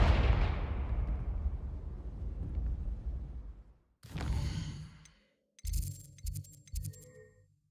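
A fiery spell blast in the video game Hogwarts Legacy booms with a heavy low rumble that decays over several seconds, followed by sharper magical bursts and chiming effects.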